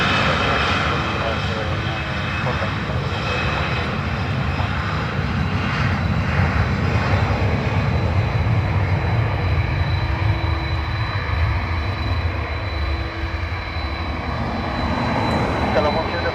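A plane on the runway at Dublin Airport makes a loud, continuous engine roar that holds steady for the whole stretch, with voices talking over it.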